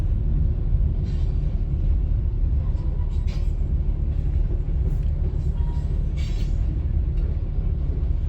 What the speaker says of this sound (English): it's the first train we've gotten in a couple of weeks